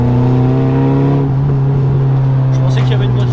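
A Nissan Silvia 200SX engine drones steadily from inside the car, with a strong low engine tone held throughout and some pedal-driven revving, while faint voices sit underneath.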